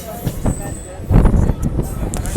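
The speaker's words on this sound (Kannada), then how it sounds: "ಯಾವುದೋ ಈ ಟ್ರೈನ್ ಡಿಪಾರ್ಚರ್ ಆಗ್ತಾ ಇದೆ." A train departs Gadag railway station with close, rumbling wheel clatter and a high squealing tone, while a voice talks over it.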